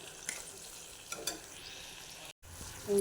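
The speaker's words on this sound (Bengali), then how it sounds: "টমেটো কুচোনো আর মশলাটা ভালো করে কষাতে হবে যাতে টমেটোগুলো গলে যায়" Chopped tomatoes and spice paste fry quietly in a pan for Kolar Thor, a banana stem dish, with soft sizzling and a few faint stirring scrapes throughout.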